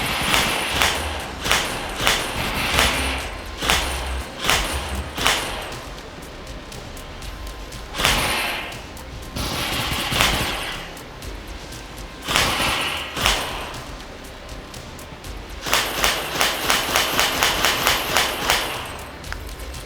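An Apexinno VR gun's haptic recoil mechanism fires repeatedly, producing loud mechanical clacks and rattling thumps in irregular bursts, including a rapid series near the end.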